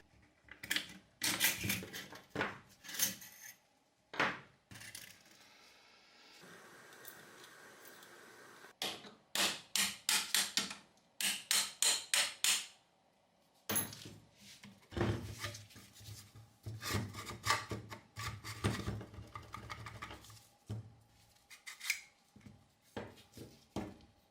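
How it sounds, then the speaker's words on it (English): Metal parts of a derusted WW2 Thompson submachine gun bolt are worked apart by hand. Close, intermittent clicks, scrapes and rubbing come in irregular clusters, separated by short quiet gaps. "I've just taken it out of the derusting bath again, and we should be able to finally take it apart now."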